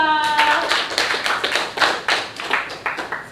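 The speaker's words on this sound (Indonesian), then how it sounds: "Beri tepuk tangan untuk Diva." Children in a classroom clap for a classmate, a short burst of scattered, uneven hand claps at moderate volume with no talk over it.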